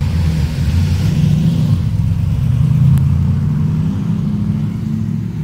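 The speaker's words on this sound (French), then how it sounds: "une Shelby Cobra 289." A classic Shelby Cobra 289 sports car on a road during a vintage car rally, with a loud, low engine rumble close by that swells a little in the middle as it passes.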